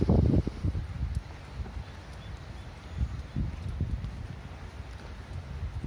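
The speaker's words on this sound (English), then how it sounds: "And it's windy." Wind rumbles and buffets against the microphone in uneven low gusts, with a steady outdoor hiss underneath, on a warm, humid, rainy day in Tokyo.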